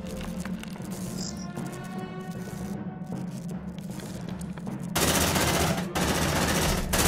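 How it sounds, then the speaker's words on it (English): Sustained automatic suppressive gunfire in the sci-fi squad game Aliens: Dark Descent, a dense rapid rattle running continuously and growing louder and harsher in the last couple of seconds, with no speech. "Suppressive fire!"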